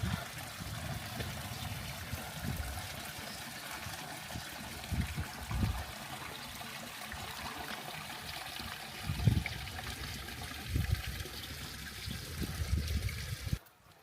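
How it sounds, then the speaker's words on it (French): Drinking water trickles and splashes steadily from a fountain on a mountain trail in the Queyras, faint and close by, with soft irregular splashes and no talking. "Il y a une superbe fontaine. Et l'eau est potable."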